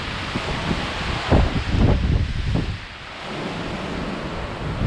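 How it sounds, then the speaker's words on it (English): Steady roar of strong wind buffeting the microphone on a mountain summit in the Carter range, with heavier gusts swelling in the middle before easing back to a constant rush. "It's windy."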